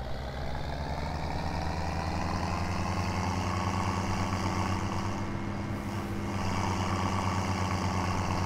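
Tractor engine in the Farming Simulator 17 video game running steadily at a constant droning pitch for the whole stretch, loud and close with no pauses.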